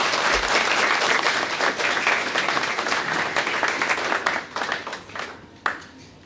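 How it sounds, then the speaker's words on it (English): Audience at a medical college white coat ceremony in St. Lucia applauding steadily, a dense wash of clapping that fades toward the end. "again, applauding the parents"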